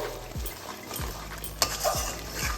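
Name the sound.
stirring coriander powder and salt into gravy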